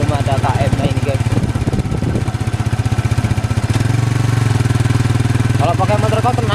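Motorcycle engine running steadily while riding along a toll road construction route, a loud, close, rhythmic throbbing drone that continues throughout, with someone talking over it.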